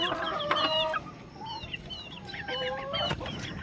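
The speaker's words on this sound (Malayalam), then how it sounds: "അലങ്കാരക്കോഴി." An ornamental chicken clucks in short bursts near a home yard. Several separate calls sound at moderate loudness over quiet background noise.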